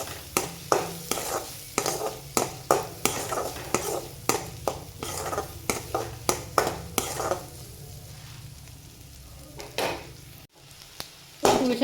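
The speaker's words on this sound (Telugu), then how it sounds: "ఈ ఆనియన్స్ కూడా బ్రౌన్ కలర్లో చేంజ్ అయ్యే వరకు ఫ్రై చేసుకోండి" Onions, green chillies and curry leaves frying in a pan for an egg and prawn curry, with a steady sizzle under repeated sharp clinks and scrapes of a spoon stirring against the pan, then a quieter stretch before a few last knocks.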